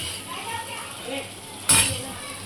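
Cowpea curry (chavli usal) being served onto a plate: quiet spoon and dish sounds with a single sharp clink of metal on the plate near the end, close by.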